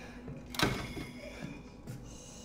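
A door closes in Resident Evil 7, a single sharp thud followed by a softer knock, heard over a quiet, low ambient hum in the game.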